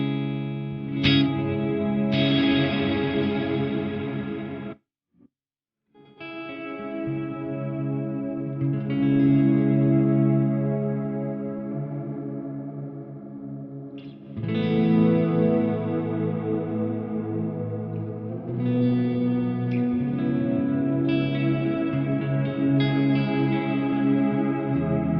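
Electric guitar played through an Eventide Blackhole reverb pedal set to a modulated reverb with depth up and a slow rate, giving sustained, lush, chorusy washes of chords with a brief silent gap, loud and continuous.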